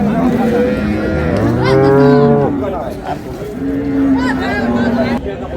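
A dairy cow with her calf at the Raniganj livestock market in Dinajpur lets out a long, loud moo, then a second drawn-out call, over a murmur of market chatter nearby.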